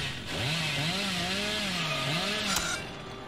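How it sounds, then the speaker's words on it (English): A chainsaw revs in the horror game Dead by Daylight, wielded by the Hillbilly killer: a loud, close engine whine that rises and wavers in pitch for a couple of seconds, then cuts off sharply. "I have the quick chainsaw after getting stun out on."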